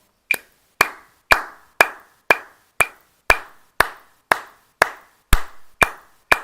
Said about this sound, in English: So you're clapping along.